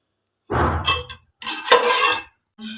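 Chana dal is stirred in a pot with a spoon, giving a few scraping, clanging metallic strokes in separate bursts separated by short pauses, close and fairly loud.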